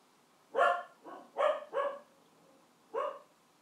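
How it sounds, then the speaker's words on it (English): A dog barks in the background as bin men arrive, giving a short run of moderately loud barks, three close together, a brief pause, then one more, with no one talking. "Excuse my dog barking in the background"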